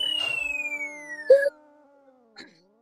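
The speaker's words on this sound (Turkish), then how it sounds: "Arkadan niye polis sesi geliyor la?" A police siren in a Roblox car-racing video game wails in a slow descending sweep, with brief bursts of other game sounds at moments along the way.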